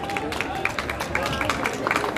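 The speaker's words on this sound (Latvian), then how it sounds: "Aplausi!" Audience applause at a book festival award ceremony, dense, lively clapping from a crowd mixed with a hubbub of voices.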